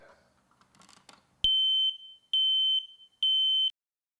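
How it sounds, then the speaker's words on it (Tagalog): Three loud, piercing smoke alarm test beeps sound in a slow, evenly spaced series, each long and steady, after a brief rustle. "Subukan buwan-buwan ang mga smoke alarm."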